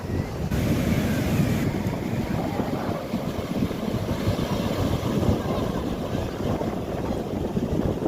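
Surf rolls in at Masula beach, Machilipatnam, during a beach festival, a loud steady wash of waves mixed with heavy wind rumble on the microphone, with no talk.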